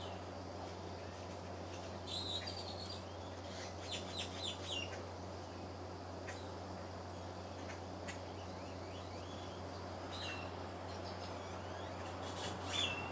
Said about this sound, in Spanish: están todos los pájaros a todo lo que da y los ruidos. Y los pajaritos cantando.